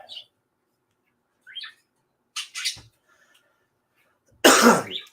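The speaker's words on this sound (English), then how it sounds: "I'm sure you can hear my birds chirping and stuff over there." A few short, high chirps and squawks from small birds come in scattered bursts, with a louder rough burst near the end; otherwise quiet.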